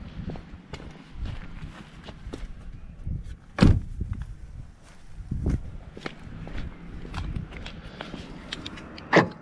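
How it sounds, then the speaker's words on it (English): A Renault Clio 3 door swings shut with a solid thump, followed moments later by the central locking clunking, amid scuffing movement and handling noises close by. "Let me close the door."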